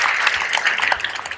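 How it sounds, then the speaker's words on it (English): A room full of people claps in dense, sustained applause, bright and close, with scattered individual claps standing out through the brief burst. "Give yourselves a round of applause."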